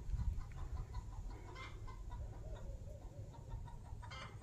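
A hen clucks outdoors, soft and somewhat distant, a few scattered clucks over low background noise.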